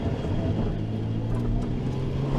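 A noisy Ford Anglia engine, likely turbocharged, runs with a steady, loud droning hum and no pauses or revs.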